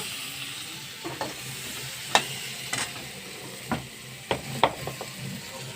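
A paste of ginger and green chili fries with turmeric and salt in a pan, a low hiss broken by several sharp scraping knocks as it is stirred, close by with no voices.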